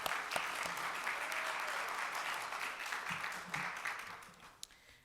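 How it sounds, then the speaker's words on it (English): Sustained applause from a sizable crowd at a Rotary club meeting, a dense steady patter of many hands clapping that fades slightly toward the end. "Let's give her another round of applause."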